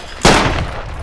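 A single sharp, loud gunshot in the military shooter Project Reality, cracking suddenly out of quiet background noise and then decaying into a brief rumbling tail.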